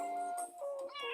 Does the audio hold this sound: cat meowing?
yes